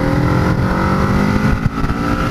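Kawasaki Z650 motorcycle engine revving, a loud, close, rumbling exhaust note held steady with a brief dip and recovery, no voices over it.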